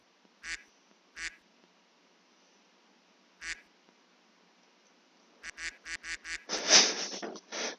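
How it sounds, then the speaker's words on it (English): Cartoonish duck quacks in a video game, a few spaced single quacks followed by a rapid burst of several loud quacks near the end. "I love the duck."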